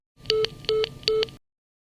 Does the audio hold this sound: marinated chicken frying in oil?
no